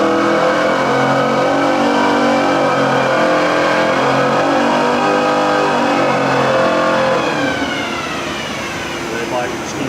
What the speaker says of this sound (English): going to get the bike within a target range of over 25 miles an hour.